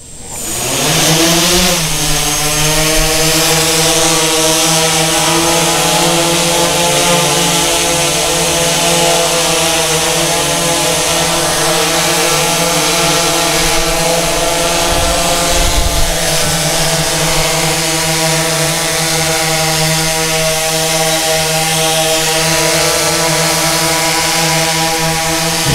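A DJI S1000 octocopter drone's motors spin up and hold at full throttle for takeoff, a loud, steady, high whine with strong harmonic hum that stays constant and close throughout.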